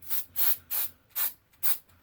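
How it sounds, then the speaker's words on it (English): Five short hissing bursts from a spray bottle spraying liquid onto a carving piece, evenly spaced and close by, with quiet gaps between them. "I'm going to go ahead and spray it down"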